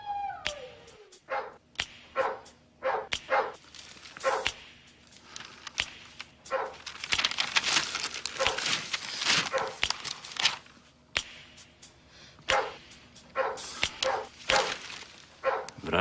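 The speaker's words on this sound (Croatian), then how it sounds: "Vraži pas." A dog barks repeatedly near the listener, with sharp, irregular yaps and a few quieter gaps between them, over a quiet indoor room.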